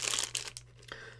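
A plastic bag holding a Loot Crate collectible is crinkled open up close, a burst of dense rustling and crackling that fades to lighter crinkles.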